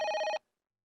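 A single burst of electronic telephone ringing during a police raid scene in an Indian film, a bright trilling tone that cuts off abruptly, leaving silence.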